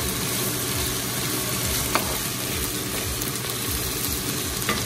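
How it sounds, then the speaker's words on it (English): Spinach and green onions saute in a pan, making a dense, steady sizzle that holds at an even loudness throughout, with a couple of faint knocks and no talking. "we're going to go ahead and add the bag of spinach to the green onions. And go ahead and get that sauteed."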